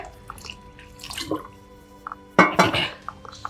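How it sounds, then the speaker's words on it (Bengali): Hot water is poured into flour dough for kachori, making a few brief splashy bursts and drips. The loudest pour comes midway, set against faint kitchen background sounds. "আধা লিটার গরম জল এর ভিতরে আমি দিয়ে দেবো।"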